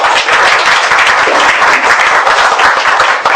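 Audience applause for a guest speaker at a wildlife talk, dense and loud continuous clapping from a roomful of people that holds steady for a few seconds.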